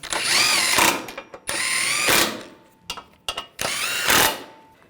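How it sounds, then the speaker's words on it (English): A power tool tightens bumper impact absorber bolts on a 2009-2017 Volkswagen Tiguan, giving three loud, close whirring bursts that spin up and wind down, with brief clicks and clatter in the short gaps between them. "I'm going to tighten that down."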